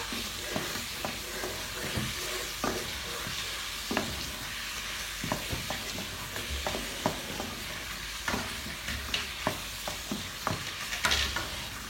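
Pilau rice in a pot is stirred with spices and garam masala, giving a steady low sizzle under frequent scraping and knocking strokes of a spoon. Close, busy and rhythmic, with no voices.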